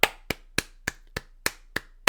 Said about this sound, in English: Same notes, clapping out 16th notes.